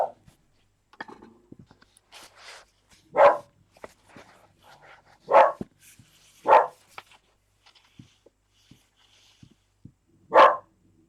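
A dog barks in several sharp, separate bursts spaced a second or two apart indoors, with quiet rustling and faint scratchy sounds in between.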